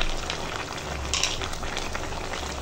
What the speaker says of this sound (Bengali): এখন এখন মাংসটা কষাচ্ছি